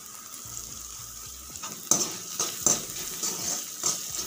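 A spoon stirring turmeric and salt into onions frying in a pan for poha, with repeated scraping and clinking strokes over a steady sizzle, close up, with no talking.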